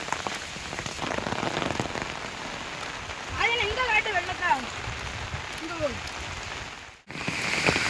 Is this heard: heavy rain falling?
yes